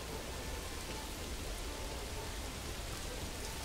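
Steady rain in the Manor Lords video game, a dense even hiss of falling drops continuing without pause, soft and distant.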